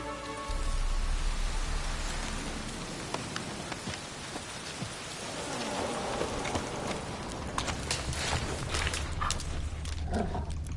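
Rain patters steadily on the ground in the Velen region of The Witcher 3, a soft continuous hiss with scattered drops and faint clopping of a horse's hooves.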